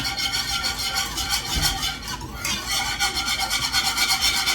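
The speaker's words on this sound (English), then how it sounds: "And you keep whisking till it thickens." A whisk scrapes and rasps steadily around a pan of brown gravy for KFC-style mashed potatoes as it thickens, a continuous close scratchy stirring with no talk.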